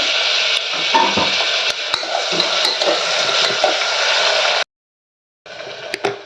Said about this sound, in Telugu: ఇప్పుడు దీంట్లో నేను టమాటా వేసుకుంటాను. టమాటా కూడా కొంచెం ఒక 2-3 మినిట్స్ వేగనివ్వాలి.